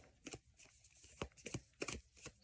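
Tarot cards being shuffled and drawn during a reading, a run of soft, close papery riffles and flicks in irregular bursts with no talk over them.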